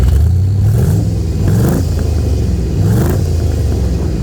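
A cheap supercharged Corvette V8 with a blower rumbles loud and close, revving in repeated surges with a whirring blower note over a deep engine drone.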